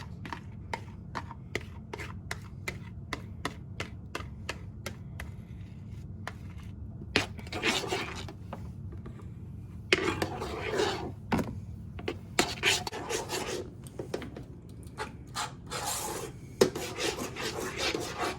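A spoon or spatula scrapes and folds pumpkin mousse mixture around a bowl, with repeated rasping strokes in a steady rhythm that turn busier and louder midway.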